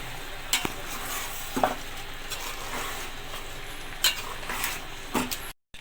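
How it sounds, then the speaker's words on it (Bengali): Fish egg curry with sour yogurt being stirred in a pan, giving a soft steady sizzle with a few sharp spoon scrapes and clinks against the pot. "এখন এটাকে নাড়াচাড়া করে মিক্স করে ফেলা হবে"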